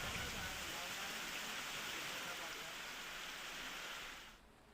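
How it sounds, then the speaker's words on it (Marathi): Heavy monsoon rain pours in a dense, steady roar for several seconds in Shahapur, Thane, with the Bharangi river in flood, then drops off sharply near the end. "शहापूरमध्ये अतिमुसळधार पाऊस कोसळतोय"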